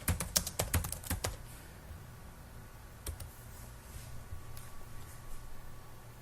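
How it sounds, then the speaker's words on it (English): A name being typed on a computer keyboard, a quick burst of close, crisp key clicks at the start, then sparser taps over a quiet room. "And then you will type in your name."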